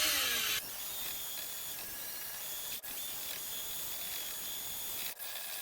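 A drill turns slowly while mixing part B of an epoxy floor coating, giving a steady, faint whirring hum with a couple of brief dips and no talk.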